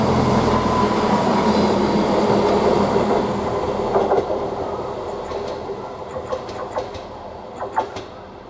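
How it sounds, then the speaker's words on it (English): A Greater Anglia class 755 train at March station, a loud rumble with clickety-clack wheel rhythm close by that slowly fades as the train moves off, leaving scattered clanks and squeals. "Now we've got a Greater Anglia train"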